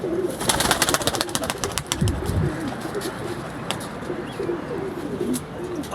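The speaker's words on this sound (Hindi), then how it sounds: "अभी ये अपना 35 वाला कबूतर उड़ाऊंगा आज इंशाल्लाह ताला" Pigeons coo softly and repeatedly amid a busy outdoor background, with a few sharp clicks and faint chirps mixed in.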